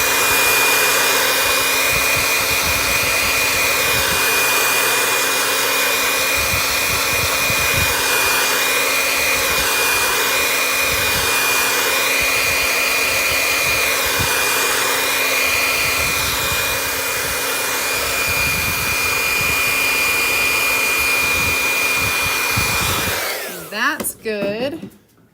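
A dryer drying paint on a football door sign, a loud steady whine and rush that runs unbroken for about twenty-three seconds, with a faint fluttering handled-movement texture, then cuts off abruptly.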